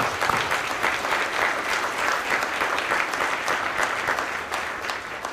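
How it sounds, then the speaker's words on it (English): Sustained, dense applause from a large audience at an army change-of-command and retirement ceremony, steady and even throughout with no speech over it. "Please join me in a round of applause to recognize the distinguished Burleson family."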